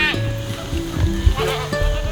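Goats bleat loudly and close up at a lively gathering of family and friends, several overlapping calls in quick succession with no talk over them.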